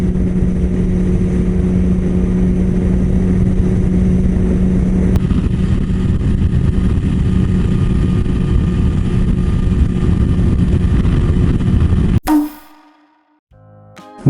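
Motorcycle cruising at 100 km/h heard from inside a flagship full-face helmet, a loud constant roar of wind and engine drone that cuts off abruptly near the end.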